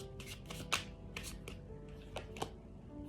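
Tarot cards being shuffled by hand close up, several soft riffling swishes and a few sharper slaps of the deck at an uneven rhythm, quiet and with no speech.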